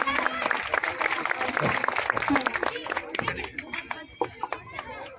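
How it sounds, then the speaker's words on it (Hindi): An audience at a children's school play competition in Jalgaon applauds a child performer, a loud dense burst of clapping that thins toward scattered claps near the end, with voices under it. "जोरदार तालियां हो जाए आफिया के लिए।"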